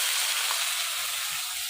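Tomatoes dropped into onions frying in a pan for a village-style Bengali prawn dish give a steady, close, loud sizzle that hisses evenly without pause, with no talking.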